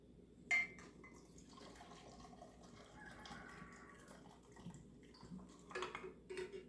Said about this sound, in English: I've got some hot water that we're going to put in these cups and warm these up.